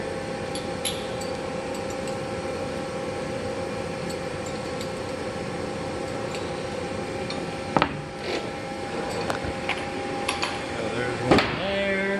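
Hard jaws are removed from an FC MACH 110 lathe chuck: a few sharp metallic clinks and knocks, mostly toward the end, ring out over a steady machine hum.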